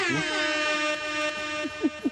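An air horn sound effect blares one sustained, brassy, buzzing tone for about two seconds at moderate loudness, with a few short squeaky blips near the end.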